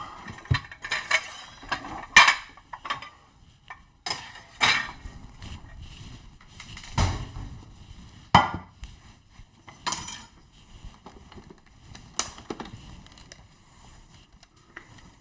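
Ground pork scraped out of a pan into a bowl, a series of irregular metallic scrapes and clinks of a utensil against cookware, moderately close, with quieter gaps between strokes.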